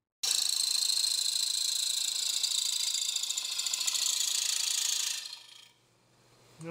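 A P-type parting tool with a 15-inch handle cuts into a bowl blank on a wood lathe, giving a steady, loud, rasping hiss that holds for about five seconds, then cuts off abruptly, leaving faint low hum.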